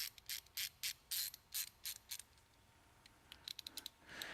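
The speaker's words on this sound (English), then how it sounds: "I think I like the ratchets with the ball bearing release." A ratchet wrench with a ball-bearing release, giving a quick series of sharp, close mechanical clicks in a steady rhythm, then a pause and a few lighter, faster clicks.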